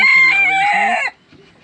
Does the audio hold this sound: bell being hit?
no